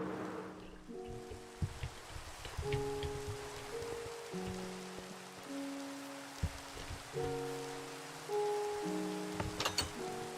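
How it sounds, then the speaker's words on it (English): Rain falls steadily in a blocky Minecraft-like video game, a soft continuous hiss of drops beneath gentle tonal game music, with a few brighter spatters and no voices. "Sick of the rain"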